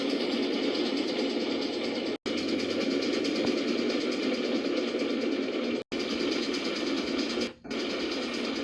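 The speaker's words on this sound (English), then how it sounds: "Number one engine coming through!" A cartoon train engine keeps up a busy mechanical chugging whir, loud and continuous, broken by a few abrupt silent cuts.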